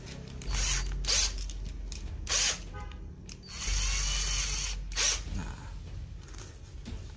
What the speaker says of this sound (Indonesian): Sekarang kita coba pemasangan skrup ya, teman-teman ya. Nah, ini kita gunakan mata untuk obeng ya